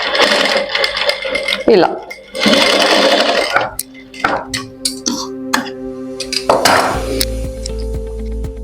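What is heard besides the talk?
sewing machine stitching piping onto fabric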